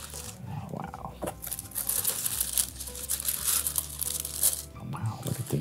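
Carmina bespoke shoe packaging being unwrapped, with close crinkling and tearing of paper in bursts while people talk softly.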